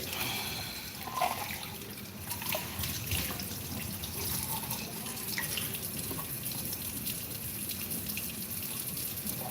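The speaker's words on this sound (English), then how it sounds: "so I'm washing the plates" Tap water runs steadily into a sink while plates are washed by hand, with splashing and dripping as dishes shift under the stream, close and continuous without speech.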